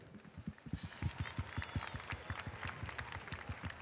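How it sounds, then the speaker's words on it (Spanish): Steady applause from an audience at a body painting contest in Las Palmas, many hands clapping in a dense, continuous patter that holds at a fairly even level throughout. "Un aplauso para todos ellos"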